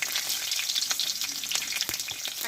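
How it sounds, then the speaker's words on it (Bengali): Half a spoon each of panch phoron and whole cumin with two slit green chillies sizzling hard in hot oil, a steady close crackle with scattered sharp pops and no talking. "এখানে দেবো হাফ চামচ মতো পাঁচফোড়ন আর দেবো হাফ চামচ গোটা জিরে আর এখানে দুটো কাঁচা লঙ্কা চেরা দিয়ে দেবো"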